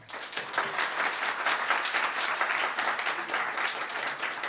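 A live audience applauds for presenters joining the conference online, a steady, dense wash of clapping that holds at an even level throughout with no break.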